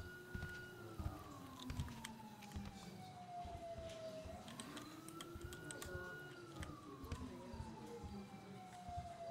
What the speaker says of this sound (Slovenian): Ja, pa kaj, slišam sirene.